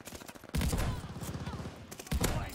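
MG42 machine gun firing in Call of Duty Vanguard, a very fast continuous burst of rattling shots, loud and close, followed by a brief pause and a second short burst.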